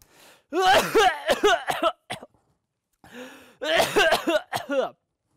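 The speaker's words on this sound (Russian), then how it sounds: "Это кашель." Two loud bouts of harsh, raspy coughing, each a string of rapid hacks, separated by a brief silence, close and isolated.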